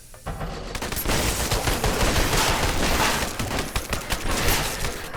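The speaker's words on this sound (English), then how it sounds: "This Vortex gun is pretty crazy" A Vortex gun fires continuously in a Half-Life mod, producing a loud, dense, crackling barrage that runs almost unbroken for several seconds.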